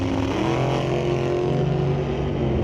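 A 2001 Cameron dragster launches hard off the line at a drag strip, a loud, steady, sustained engine roar dominating throughout without talk.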